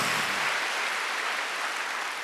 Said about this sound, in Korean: 아이 세게 쳐요 박수